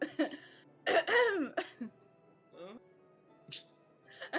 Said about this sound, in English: I'm just gonna clear my throat.